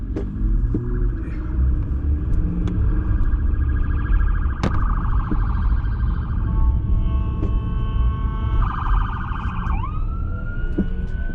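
A police siren wails from behind amid loud engine rumble and road noise in Winnipeg, Canada, its tone sweeping and shifting as the police vehicle approaches.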